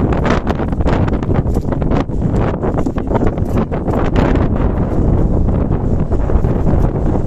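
Strong wind blowing at the Mount Samat shrine, buffeting the microphone in a loud, continuous roar with gusty bursts throughout.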